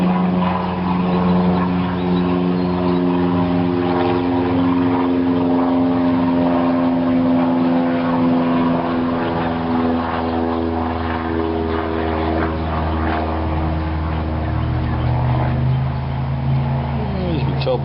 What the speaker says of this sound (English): As you can tell by the airplane, I'm working outside.